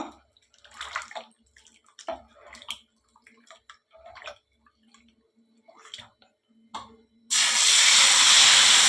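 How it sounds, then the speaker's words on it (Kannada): Dosa batter for a salt-and-pepper dosa hits a hot griddle with a sudden loud, steady hiss that follows a stretch of talking and continues to the end. "ಕಾವಲಿಗೆ ಕಾದಿದೆ ಇನ್ನು ದೋಸೆ ನೆರ್ಕೊಳ್ಳುವ"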